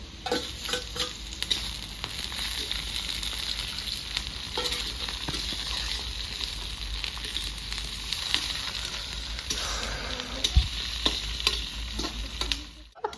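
Beans and capsicum frying for fried rice in a pan, village-style cooking: a steady, close sizzle with scraping stirs throughout, continuing alone without talk before cutting off at the end.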